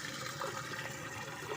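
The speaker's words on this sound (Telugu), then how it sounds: "ఇక్కడ సౌండ్ ఎలా వస్తుందో ఎంత ఫాస్ట్గా వెళ్ళిపోతున్నాయో వాటర్." Rainwater rushes fast off a flooded rooftop terrace as a steady, dense gush of flowing water. The flow is close and continuous, with no speech.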